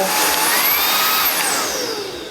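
A Cecotec Conga Rockstar RS50 X Treme cordless vacuum cleaner runs with a loud, high whining motor that shifts pitch, sweeping upward and then down, heard close and steady before fading slightly at the end.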